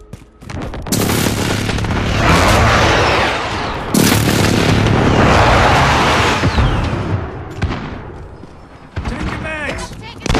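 Airstrike explosions in Call of Duty Modern Warfare online multiplayer: two loud, booming blasts with long rumbling tails, mixed with gunfire and game voices.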